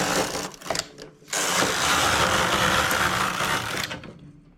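A heavy knitting machine working slowly through rows of open-stitch knitting, with a brief pause near the start followed by a steady, loud mechanical rattle of the carriage that fades at the end.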